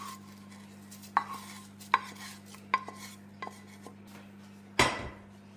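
A spoon clanks against a pot several times while onions and curry leaves are stirred into a Kerala-style chicken stew with coconut milk, sharp metallic knocks spaced about a second apart over a low steady hum, ending with a louder scrape.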